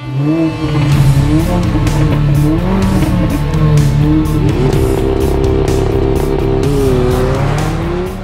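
Mercedes-AMG car driven fast and aggressively, its engine loud and continuous throughout with rising and falling revs and some tire noise, close and dominant with no talking.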